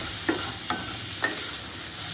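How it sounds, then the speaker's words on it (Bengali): Potato and papaya pieces fry in a pan with panch phoron and dried red chilli, giving a loud, continuous close sizzle broken by three short sharp clinks of a stirring spoon against the pan, with no voices. "একটু পাঁচফোড়ন আর শুকনো লঙ্কা দিয়ে একটু হলুদ দিয়ে ভালো করে ভেজে নেবো"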